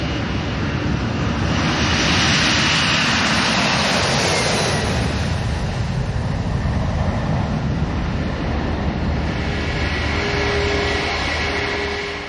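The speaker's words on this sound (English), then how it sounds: "it's the turn of an American Airlines Boeing 767 departure for London" An American Airlines Boeing 767 jet airliner departs, its engine roar building loud and steady before slowly easing as it climbs away.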